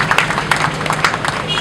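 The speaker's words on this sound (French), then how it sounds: "Est-ce que vous pouvez applaudir M." Audience clapping at the inauguration of a fuel station in Kimpese, Kongo Central, a steady crowd patter of hand claps with a few sharper claps standing out, moderately loud throughout.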